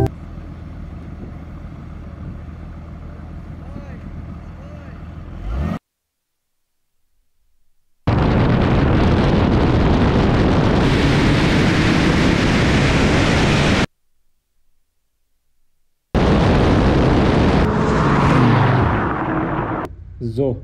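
A Porsche 992 GTS and a Mercedes GT accelerating side by side in a drag race, with loud, sustained engine roar in several long bursts separated by abrupt silent gaps.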